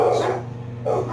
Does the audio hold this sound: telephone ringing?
no